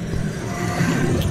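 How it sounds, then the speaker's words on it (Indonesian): A motorcycle engine idles smoothly and steadily, a continuous low hum with a faint mid-pitched tone on top, close by and even in level throughout. "Asli ini suara motornya bener-bener mulus,"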